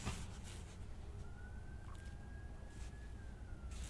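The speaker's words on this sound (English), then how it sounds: "I hear sirens" A distant siren wails faintly in a long rising and steady tone over a constant low rumble of background noise.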